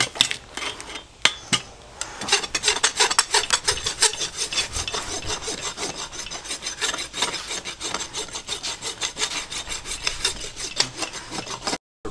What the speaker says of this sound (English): you can turn your rasp, use your rough side of your rasp like that,